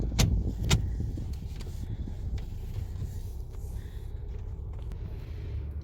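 Steady low rumble of a car cabin while driving, with a couple of brief clicks or knocks near the start and a continuous engine and road drone throughout, no talk.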